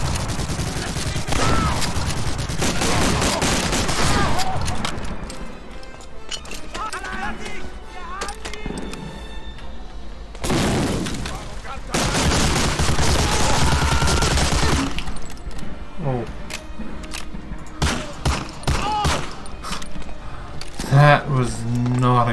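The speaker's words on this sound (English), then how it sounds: "Let's try the shotgun." Shotgun blasts from the World War II shooter Medal of Honor: Allied Assault ring out as repeated loud, sharp reports, mixed with clattering in-game combat noise.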